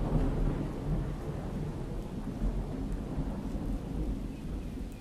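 Steady heavy rain pours with a deep rolling rumble of thunder underneath in a video game, continuous and dense throughout.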